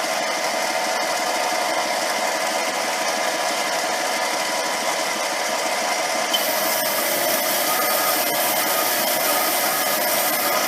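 Metalworking machine on a steady rest build running at about 900 RPM while a cut is fed by hand, a steady loud broadband whine and hiss throughout with no talking.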